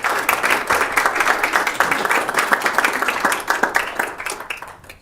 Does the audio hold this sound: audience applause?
yes